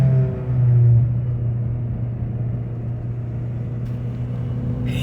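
A Nissan Altima engine is held near its 6,000 RPM redline, giving a loud, steady, droning rumble heard from close by that swells slightly at the start and then holds.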